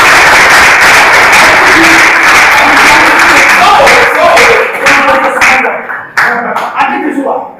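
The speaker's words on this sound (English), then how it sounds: "Let's just give him a round of applause." An audience at a televised contest show breaks into loud, dense applause that holds strong for several seconds, then thins into scattered individual claps as it fades, with voices mixed in.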